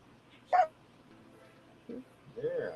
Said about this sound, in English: I don't know if you guys can hear this, but these dogs are saying Tony Khan sucks